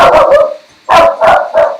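A dog barks nearby, loud and sharp: a quick burst of three barks, a short gap, then three more.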